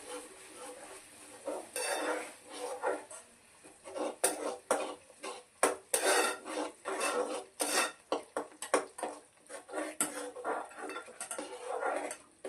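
Paneer gravy stirred in a pan after garam masala goes in: close, irregular clinks and scrapes of a spoon against the metal, with a faint sizzle underneath.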